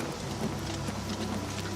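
Steady rain pouring in a dark stormy landscape in Oblivion Remastered, a dense continuous hiss of drops with a low rumbling undertone, loud and unbroken, no voices.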